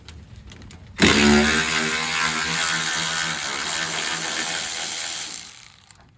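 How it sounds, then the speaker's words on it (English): A ratchet fitted with a 45 Torx socket loosens a bolt on a Dodge Ram truck's tailgate, giving a sustained, close mechanical whirring and clicking that runs for about four seconds after a sharp start, then fades. "we're going to use that and just take this bolt loose"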